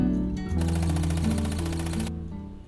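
A sewing machine stitching quilting lines through fabric, a loud, steady mechanical whir with a fast repeating needle rhythm that starts after a short lead-in and winds down near the end, with no speech.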